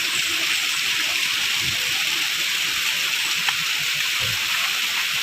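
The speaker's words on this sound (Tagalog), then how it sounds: "May mga falls pa." A waterfall in Quezon province gives a steady, broad rush of falling water, constant and moderately close, with faint low thumps beneath.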